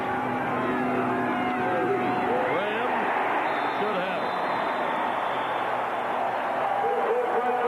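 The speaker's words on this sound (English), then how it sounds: "that's the biggest cheer we've heard in a little while for a first down" A football stadium crowd at a 1995 Tennessee versus Vanderbilt game roars in a sustained, swelling cheer for a first down, filling the whole stretch while a commentator talks over it.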